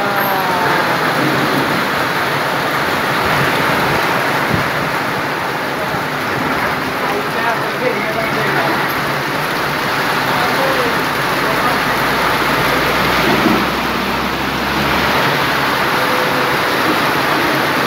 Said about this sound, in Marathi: चांगला जोराचा पाऊस आलाय.